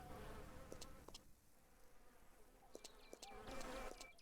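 Bees buzz around hives in the woodland game Lumberjack's Dynasty, a soft, wavering insect drone with a few louder passes as they fly close.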